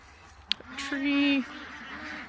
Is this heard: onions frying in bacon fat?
no